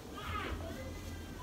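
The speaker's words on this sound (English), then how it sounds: "Screaming teenagers." Teenagers scream and shout next door, heard muffled and faint from a distance through the walls, with excited young voices blending into a continuous noisy backdrop.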